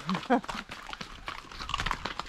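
Horse hooves clop unevenly as a rider sets off on a horseback trek, the knocking steps partly masked by people talking nearby.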